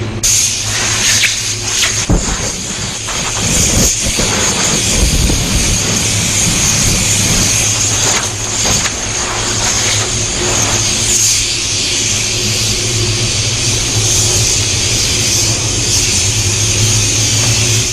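Steady loud hiss of compressed air blowing dust off a painter in an automotive paint booth before a third coat of PPG paint goes on, a continuous rushing stream with a few brief louder bursts early on.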